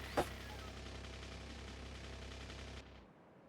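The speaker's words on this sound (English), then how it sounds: "It's a pretty strong cannon," A single sharp cannon blast goes off in a factory-building video game, brief and fairly faint. A steady low mechanical drone follows and fades out near the end.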